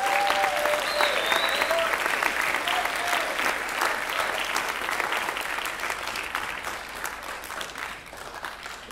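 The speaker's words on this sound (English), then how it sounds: "Okay, round of applause for these people." Audience applause after a school concert band's spring concert performance: dense, steady clapping from a crowd that slowly tapers off, with a few faint voices mixed in.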